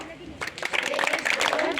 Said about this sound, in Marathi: आता मी एक टाळी सांगणार आहे तुम्हाला. द्यायची टाळी सगळ्यांनी.